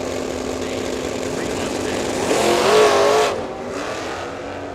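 A Ford Mustang drag racing car at Firebird Motorsports Park roars and rises in pitch through a brief surge, standing out over steady trackside engine noise before fading back.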